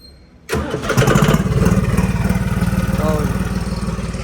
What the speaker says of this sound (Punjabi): ਕਰ ਲਈ ਹੁਣ ਸਟਾਰਟ ਟਰੈਕਟਰ